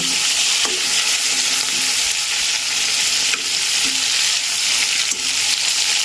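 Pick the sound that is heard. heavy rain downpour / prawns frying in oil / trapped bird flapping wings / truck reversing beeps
prawns frying in oil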